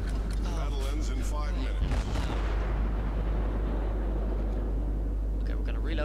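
Cleveland cruiser guns firing in the naval game World of Warships, a deep booming salvo over heavy engine rumble, with a player talking over the action.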